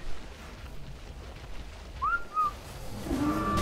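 A short two-note whistle rises then slides across, sounding as a command call to tamed dinosaurs in ARK, heard over low ambient game background noise with a faint tone near the end.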